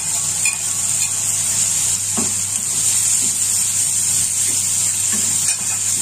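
Onions sizzle steadily in a frying pan while they are stirred, with a constant frying hiss and occasional soft scraping of the utensil against the pan. It is close and continuous, with no talking.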